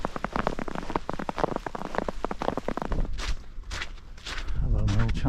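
Boots crunch through snow on a hillside hike in a Snowdonia snowstorm, a steady run of close, gritty steps that later loosen and fade as wind noise grows, with a voice speaking briefly near the end.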